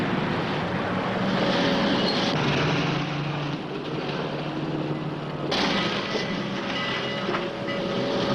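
A train rumbles past close by, wheels clattering steadily on the rails in a loud, continuous roar.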